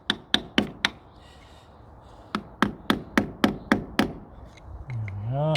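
A screwdriver knocks a new hub oil seal into place on a Land Rover, giving two bursts of sharp, close metallic taps, four quick hits and then about seven evenly spaced ones, with a brief squeaky noise at the end.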